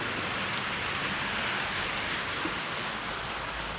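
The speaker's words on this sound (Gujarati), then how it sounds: "વરસાદ આવી ગયો છે" Steady rain falls in the evening dark, making an even, soft hiss of drops on surfaces without pause and with no voices over it.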